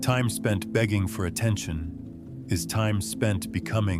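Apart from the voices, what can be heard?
No distinct noise like a dog, phone or traffic.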